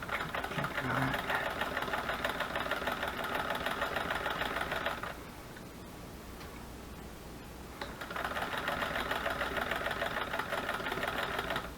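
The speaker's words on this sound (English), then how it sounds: "these hand crank sewing machines are a little hard to control sometimes, but it sure is fun using the old sewing machine." An old hand-crank sewing machine runs in steady rapid ticking bursts, loud and close, stopping for a few seconds midway before resuming, with no talk.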